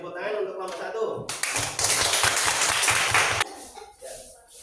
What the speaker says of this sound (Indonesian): Di tepuk tangan untuk kelompok 1.